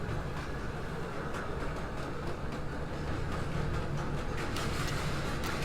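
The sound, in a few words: train tracks sound effect from a video game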